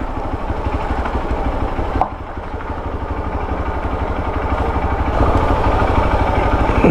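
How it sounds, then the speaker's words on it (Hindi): A powerful motorcycle idles close by in Goa, its engine throbbing in a steady, dense pulse that stays loud and grows slightly stronger toward the end. "अरे कौन सी बाइक है भाई, इतनी तगड़ी वाली है."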